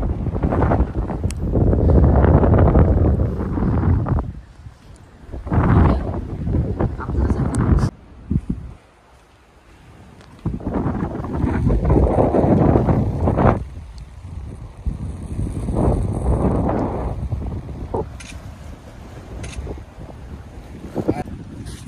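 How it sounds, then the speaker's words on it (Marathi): Strong wind at a dam viewpoint above water, roaring and buffeting the microphone in long gusts that ease off briefly midway, while people talk over it throughout. "वारा बघू शकतात कसला चालू हा"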